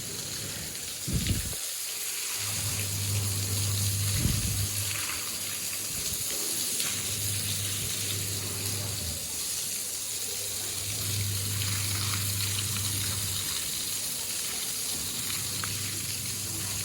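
Water splashes and runs steadily across a floor being washed down after heavy rain, a continuous wet hiss at moderate volume with a low hum underneath and a few brief knocks early on.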